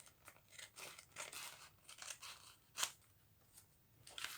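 Scissors snip through coffee-dyed paper for a junk journal in a series of close, quiet cuts with soft crinkly rustling, one sharper snip standing out partway through.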